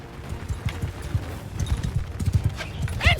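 Horses galloping as horse archers move out in the Bannerlord game, a quick run of close hoof clip-clops with a brief whinny near the end, no talk.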